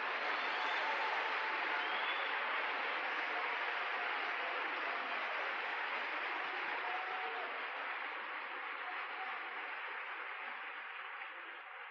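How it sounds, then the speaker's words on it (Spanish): Long, steady applause from a church congregation praising the Lord, a dense wash of clapping that holds evenly and then tapers slightly toward the end, with no talk over it. "Un aplauso pues para el Señor."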